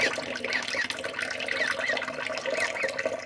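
Water running into a sink during a bath for baby lovebirds, a steady close trickle and splash with faint high chirps mixed in, continuous and without talk.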